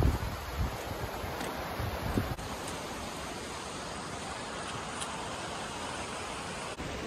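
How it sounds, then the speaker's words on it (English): A waterfall on a wooded Ontario hiking trail pours as a steady, broad wash of rushing water, filling the background evenly and continuously with no voices. "Coming up on the waterfall."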